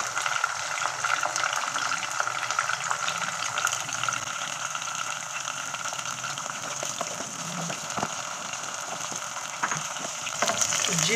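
Mixed vegetables fry Chinese style in a hot pan with a steady, close, unbroken sizzle that holds at an even loudness for the whole stretch, with no voices.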